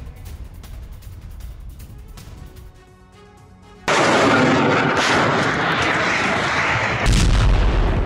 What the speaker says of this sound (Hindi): तेज धमाकों की आवाज के साथ धुएं का गुबार भी देखने को मिला है।